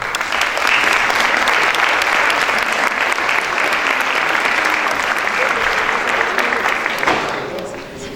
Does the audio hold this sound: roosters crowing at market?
no